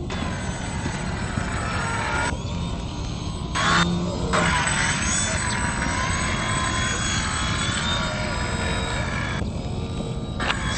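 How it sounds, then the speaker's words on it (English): A Clik toy's turbocharger whirring steadily for about ten seconds, a close, droning mechanical hum with shifting tones and brief gaps in the higher part of the sound. "That's the turbocharger."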